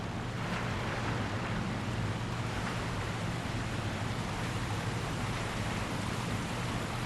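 A steady rushing roar of a waterfall in Sekiro, a continuous broadband wash of falling water, fairly loud and unchanging throughout.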